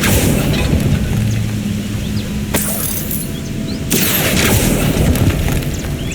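Bombarda spell explosions in Hogwarts Legacy, with a heavy booming blast over a dense, loud background and a second sharp burst later, with no talk.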